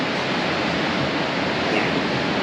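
Ocean surf rolls against a pier in Rosarito, Mexico, a steady, loud wash of crashing water with no break, heard close and alone.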